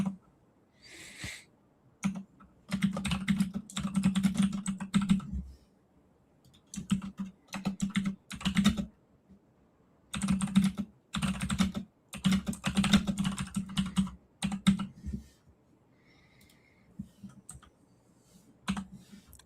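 Typing on a computer keyboard with a key that had stopped working: bursts of rapid, close keystroke clatter alternate with brief pauses and a few isolated clicks, and there is no talking.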